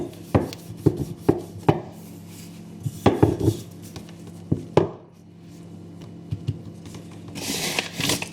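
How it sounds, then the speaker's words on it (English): A wooden rolling pin knocks and rolls over floured vegetarian momo dough on a counter, giving a run of sharp close thumps and scrapes in irregular bursts, fading to soft rustling near the end. "we're going to roll this quite thin"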